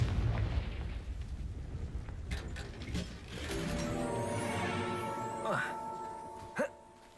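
Confringo blasting spells in Hogwarts Legacy go off as rumbling booms with bright chime-like ringing layered over steady background game noise, ending with a short sharp burst.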